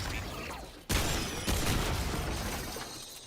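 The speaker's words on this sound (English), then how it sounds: "Listen to the sounds of gunshots and go to sleep with the peaceful matter" Gunfire in the video game Remnant 2: two loud, sharp blasts arrive close together, each trailing into a dense, roaring wash of reverberant noise that keeps the scene loud afterward.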